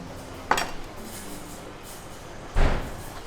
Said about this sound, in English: And I'll just drop that in this bowl.